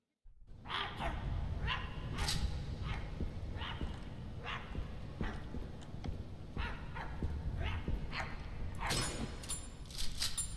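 Stitched monster dogs in the horror game My Friendly Neighborhood barking in repeated sharp bursts, several loud barks spaced across the clip over a rumbling game background, with no talk.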